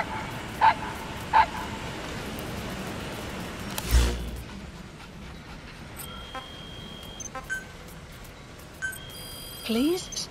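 In Metal Gear Solid V: The Phantom Pain on PS4, a puppy gives two short, faint yaps, then one louder bark a few seconds later. Quiet game ambience runs underneath, and a voice speaks over it.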